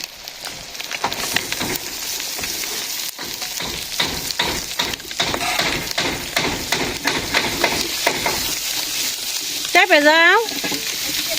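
Onions frying and stirred in a large pot over a village kitchen fire, a loud steady sizzle with scraping stirs throughout, while someone talks over it.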